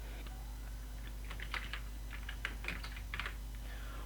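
Light keystrokes tapped on a computer keyboard, coming in short irregular bursts that are quiet and close, over a steady low hum, with no voices.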